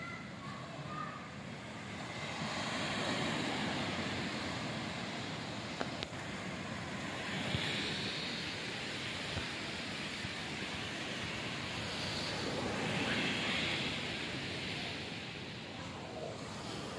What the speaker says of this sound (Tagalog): Napakalakas ng alon dito mga kanter.